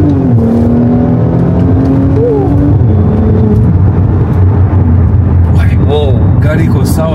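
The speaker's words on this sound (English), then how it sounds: "I'm going to show you some nice pulls of the car" A Mercedes SLC 43 AMG with a 3-liter twin-turbo engine accelerates hard. Its loud, close engine roar climbs steadily in pitch through the gears, with people's voices mixed in.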